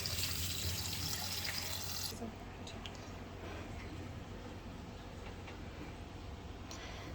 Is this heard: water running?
yes